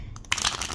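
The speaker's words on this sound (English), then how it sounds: "So I do riffle shuffle my decks." A tarot card deck is riffle shuffled, producing a brief close burst of crisp, rapid card flutter after a short soft rustle.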